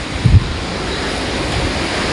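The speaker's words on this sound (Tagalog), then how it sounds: "Grabe yung hangin sa sa langit." Strong typhoon wind roars in a continuous, loud rush, with heavy buffeting against the microphone during the storm.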